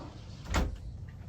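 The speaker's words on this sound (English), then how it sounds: "Close the door." A single door swings shut with a soft, close thud, standing out briefly against a quiet, steady background hush.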